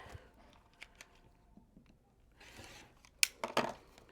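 Scissors cutting quilting fabric nearby, quiet rustling and small snips building to a few crisp, louder cuts near the end, with no talking.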